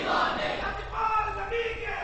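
A large crowd roars a religious slogan in unison at a gathering, a loud, reverberant massed chant that swells and repeats over about two seconds.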